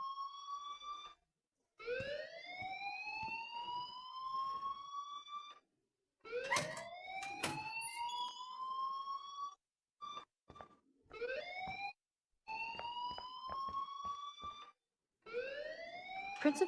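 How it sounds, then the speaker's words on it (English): School fire alarm from the video game Life Is Strange, a rising, wailing electronic siren that sweeps upward repeatedly with short gaps between cycles, fairly quiet and steady throughout. "please turn off that alarm since that's your job"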